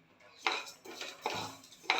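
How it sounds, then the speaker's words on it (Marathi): Flaxseeds dry-roasting in a pan over a low flame, with four distinct scraping sweeps of a spoon or spatula across the pan, fairly quiet and close, and no sizzle. "जवस आपण मंद आचेवर भाजून घ्यायचे आहेत"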